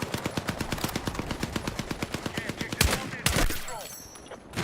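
Rapid automatic gunfire from a weapon in the video game Battlefield 6, a steady burst of about twenty evenly spaced loud shots, followed by a couple of heavier blasts and echoing tails.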